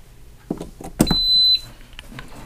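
A Cosori 2-quart pressure cooker gives a single high electronic beep for about half a second when plugged in, after a few soft clicks and handling noises.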